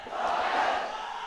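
Crowd at a Royal-Thomian school cricket match letting out a brief, loud collective roar, a dense surge of many voices lasting about a second.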